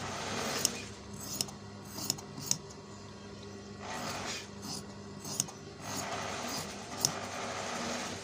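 Scissors cutting out a suit collar piece from fabric, a series of crisp snips and soft rubbing scrapes at close range with no talking.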